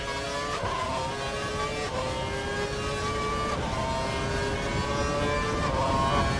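A Formula 1 car in the F1 2012 video game, at the Belgian Grand Prix, holds a steady high-revving engine whine with small pitch shifts as gears change, loud and continuous throughout.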